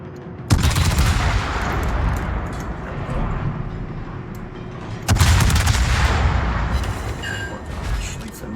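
Heavy naval guns boom in long rumbling salvos during a World of Warships battle aboard the Des Moines, two big volleys with continuous roaring fire and lighter shots between.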